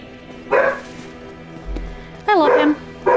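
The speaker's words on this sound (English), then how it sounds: "he's barking at Mimsy" A dog barking in the video game Dark Souls: a few short, loud yelping barks in separate bursts over a low, steady game background.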